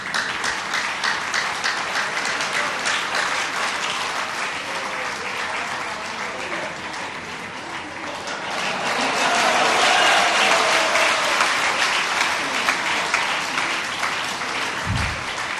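Audience applause fills a Hindi religious sermon hall, a dense, steady clapping that runs throughout and swells louder past the midpoint, with faint voices mixed underneath.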